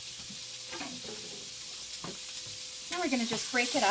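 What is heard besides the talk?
pork sizzling in a hot pan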